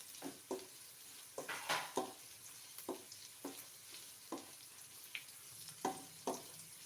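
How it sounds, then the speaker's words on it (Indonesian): Garlic with onions sautéed in a pan for chicken ginseng soup, a quiet sizzle broken by repeated spatula scrapes and taps at an uneven pace, close but faint. "Ditumis sampai harum ya teman-teman."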